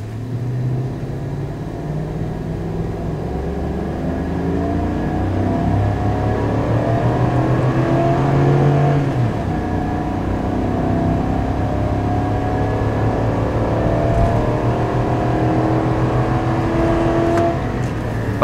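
A 2024 Chevy Silverado 3500 pickup with the gas L8T engine revs up from a standstill, pitch climbing steadily through several gear shifts as it accelerates, loud and continuous throughout.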